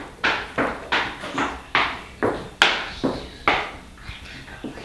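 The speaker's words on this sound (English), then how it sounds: "You can hear my daughter again in her heels in the background." Sharp, hard clicks of high-heeled footsteps on a hard floor, about ten uneven steps, fairly close, in a quiet room.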